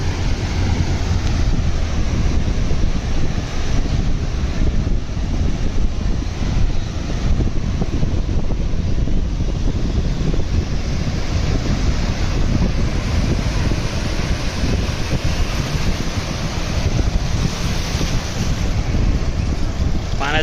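Loud, constant rush of sea water surging around the listener at Ganpatipule beach in Konkan, mixed with heavy wind buffeting the microphone; no clear speech.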